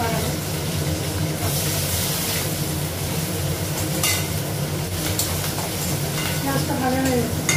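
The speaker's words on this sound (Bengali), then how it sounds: "পেঁয়াজটা ভাজা হয়ে গেছে।" Onion, dried red chillies and green chillies frying and being stirred in a pan, giving a steady, close sizzle that holds at an even level from start to finish.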